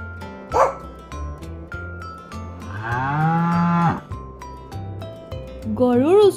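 A cow gives one long, drawn-out moo midway through, heard against a busy musical backing in an Assamese children's story, with a voice and a short yelp briefly rising near the start and the end.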